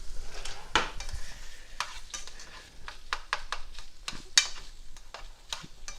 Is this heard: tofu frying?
yes